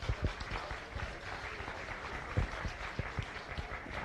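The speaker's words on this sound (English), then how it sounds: "I definitely give these guys a round of applause" A small group claps in a loose, uneven rhythm at a county goat and sheep show, the scattered hand claps fairly close and continuing without pause.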